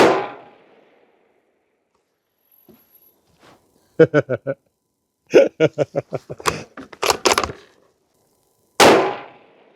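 Rifle shots from a Ruger American Ranch Gen II in 5.56 strike a small steel gong target at a distance, producing a couple of sharp metallic clangs that ring out and decay between stretches of someone talking.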